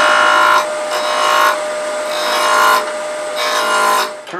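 Wood lathe spinning at very high speed while roughing a wooden chess pawn blank round with light cuts, giving loud, close scraping bursts that come and go in several long passes.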